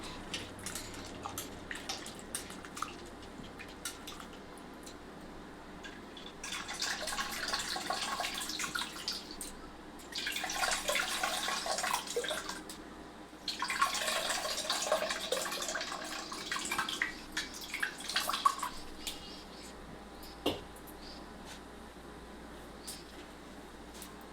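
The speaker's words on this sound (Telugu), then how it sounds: "ఇట్లా సార్లు వండుకొని ఇట్లా చింతపండు రసం పోసుకోవాలి" Tamarind juice is poured into cooked dal for Telangana-style pappu charu, with two separate splashing, running pours. Each lasts several seconds and comes close and moderately loud over a quiet room.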